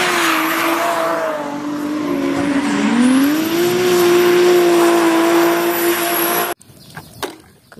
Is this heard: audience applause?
no